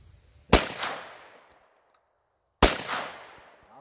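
Two loud 10mm pistol gunshots ring out about two seconds apart, each a sharp close crack with a short decaying echo, heard outdoors with no talking.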